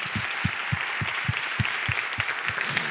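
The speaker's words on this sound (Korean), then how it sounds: "항상 복음으로 충만케 하신 하나님께 영광의 박수 드리겠습니다" Applause from a church congregation during a worship service, dense clapping with a few louder, rhythmic claps in unison near the front, steady throughout.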